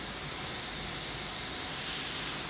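A spray gun with its fluid choked way down and air valve nearly shut, spraying shader onto maple kitchen cabinets, gives a steady close airy hiss that runs unbroken throughout and swells slightly near the end.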